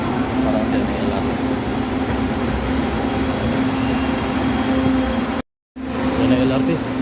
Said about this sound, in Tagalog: Yan ang LRT.